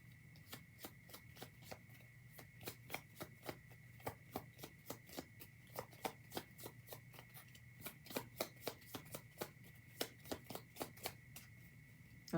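Rapid, crisp riffling of a deck of tarot cards being shuffled, a long run of quick snapping bursts close to the microphone with no talking.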